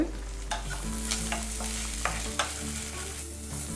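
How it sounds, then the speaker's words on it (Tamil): Onions and curry leaves sauté in a pan for ragi semiya, a steady close sizzle broken by the scrape and clack of a stirring spoon, with no talk. "வெங்காயம் நல்லா வதக்கிக்கோங்க"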